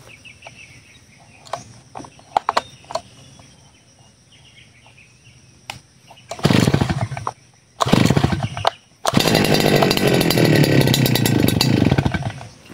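A Stihl FS250 brush cutter two-stroke engine is pulled to start, first sputtering in short loud bursts after quiet clicks and fiddling, then catching and running with a loud continuous buzz; rooster calls sound faintly in the background.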